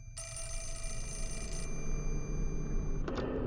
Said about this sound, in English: Oh, back to answering the phone.